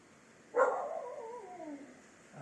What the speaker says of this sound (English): I don't know what Tiger's barking at.